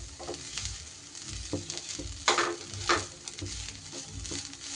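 Curry leaves sizzle in hot oil for a South Indian tiffin breakfast, a steady close frying crackle with a couple of sharper bursts and pops as the leaves hit the pan, with no talking.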